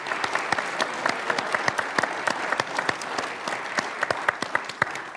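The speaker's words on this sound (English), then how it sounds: "why don't we give a large round of applause to this great staff" A church congregation at its annual meeting claps for the staff, a lively round of applause with many quick, irregular hand claps that stays steady for several seconds.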